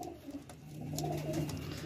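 A magnet pigeon, a breed with dotted scale-patterned feathers, coos in a low, soft, repeated rolling call, close by and steady against faint background noise.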